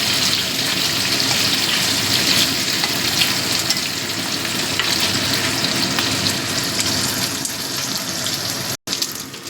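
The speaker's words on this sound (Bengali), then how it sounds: "এবার তেলের মধ্যে শুটকি দিয়ে দিচ্ছি চুটকিটাও ভেজে দেব" Dried ribbonfish frying in hot oil: loud, steady sizzling and crackling, continuous and close, with a brief break near the end.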